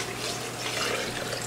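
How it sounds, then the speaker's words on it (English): Homemade almond milk pouring into a Vitamix blender, a continuous soft liquid splash and trickle at close range. "we're going to take the almond milk, which I made this afternoon, and I'm going to put it in the Vitamix."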